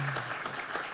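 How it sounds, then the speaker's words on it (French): Applause from an audience at a live trading talk show on a trade-fair stage: a dense, steady wash of clapping, close and fairly loud, for about a second. "on l'applaudit très fort"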